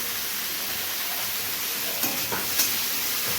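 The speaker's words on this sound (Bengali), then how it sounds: "আলুগুলো একটু হালকা বাদামি হয়ে ভাজার পর তারপর এতে দেওয়া হচ্ছে বেগুনগুলো" Eggplant pieces and lightly browned potatoes frying in oil in a pan, a steady even sizzle with a couple of brief stirring scrapes near the end, no voices.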